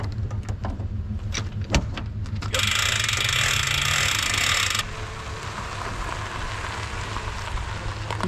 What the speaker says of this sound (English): then I'll throw the winch on it